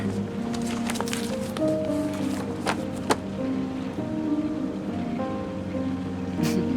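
Video game rain from South of the Circle patters steadily over a low engine-like hum, with a few brief sharper taps and a soft tonal note drifting in and out.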